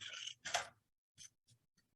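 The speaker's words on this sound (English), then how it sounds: "take our scissors and to cut this triangle out" Scissors snip through paper while cutting out a triangle, two longer crisp cuts followed by three short, fainter snips, close and quiet against silence.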